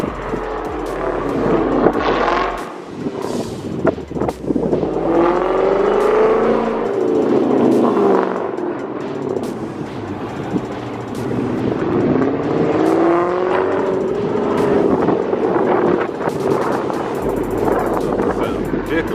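A Dodge Hellcat muscle car revs at a Mopar meet for Dodge Chargers and Challengers, a loud, sustained engine roar rising and falling amid outdoor wind noise and crowd chatter.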